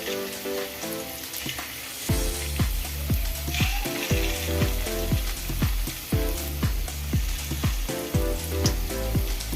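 Fish roe fritters fry in hot oil with curry leaves, giving a loud, close, crackling sizzle. Rhythmic spatula scrapes and taps keep time beneath it, and a faint tone rises briefly near the start.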